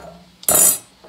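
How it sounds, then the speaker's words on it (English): A utensil clinks and scrapes briefly but loudly against a pot of chicken cordon bleu with ham as it is stirred, with a faint knock afterward. "Give that a stir."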